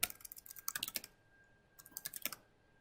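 Rapid clicking keystrokes on a computer keyboard come in two quick bursts separated by a short pause, close and fairly quiet.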